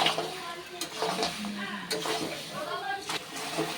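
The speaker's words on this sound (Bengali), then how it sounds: "এখানে দেখুন চর্বিগুলো দিয়ে কিন্তু আমি ভালো করে কষিয়ে নিচ্ছি।" Mutton fat and trotters are stir-fried in a pan, with close sizzling and clinking stirring strokes while a person talks over the cooking.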